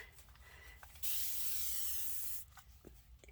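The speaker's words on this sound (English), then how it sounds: "So you just spray some alcohol, and it gives this look." A single sharp burst of alcohol from a spray bottle onto a Gelli print hisses for about a second and a half against a quiet background.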